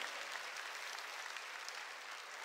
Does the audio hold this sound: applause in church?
yes